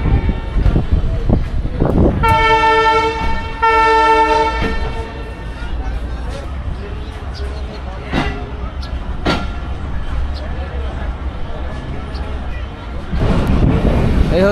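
Kanchan Commuter train departing Parbatipur Junction: a long tonal horn blast near the start, then rumbling, clanking rolling stock and a few sharp clicks, with people talking throughout.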